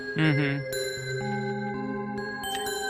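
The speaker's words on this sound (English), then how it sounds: "Bell sound." Synthesized bell tones ring out with a bright, chiming attack, then sustain in layered, shimmering notes that hold and overlap.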